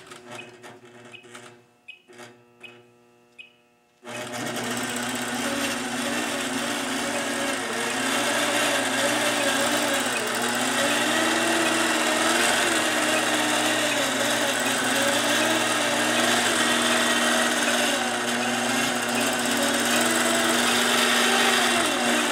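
A sewing machine stitches a nested spirograph design onto a quilt block using an installed gear attachment, its steady mechanical whir starting after a few brief clicks and continuing loud and unbroken to the end.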